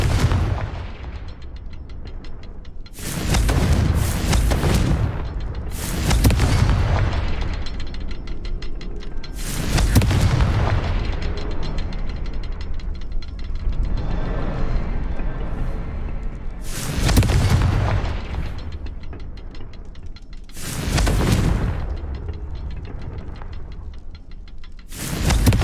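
Repeated Confringo blasting-spell explosions in Hogwarts Legacy, six heavy booming bursts spaced a few seconds apart, each a loud broadband blast with rumbling decay over a steady low game ambience.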